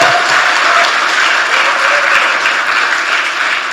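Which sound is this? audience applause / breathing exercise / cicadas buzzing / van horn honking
audience applause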